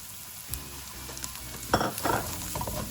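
Masala of garam masala, roasted cumin and turmeric powders stirred and cooked in a pan, with a quiet steady sizzle. A few sharper spoon scrapes and clatters stand out near the middle.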